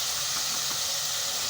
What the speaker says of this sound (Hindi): अब हम इसमें कीमा ऐड कर दें और इसे अच्छे तरीके से भून लेंगे